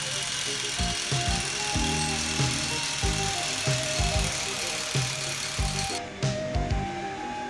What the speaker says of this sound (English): the drilling can be undertaken with any type of rotary hammer drill